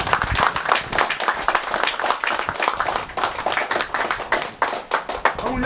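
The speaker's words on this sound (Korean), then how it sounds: "우리 김문수 전 경기도지사께 여러분 뜨거운 박수를 다시 한번 보내주세요." An audience at a political lecture in Korea claps warmly and steadily for a former Gyeonggi Province governor: many hands beating quickly together, close and fairly loud, continuing for several seconds with slight swells.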